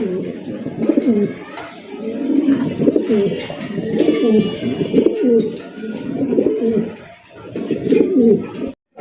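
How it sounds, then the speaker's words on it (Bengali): Black-lace Shartin and modern farm Shartin pigeons coo close by in a repeated series of low, throaty, rolling calls. "এক জোড়া ব্ল্যাকলেস শার্টিন আর এক জোড়া মডার্ন ফার্ম শার্টিন কবুতর"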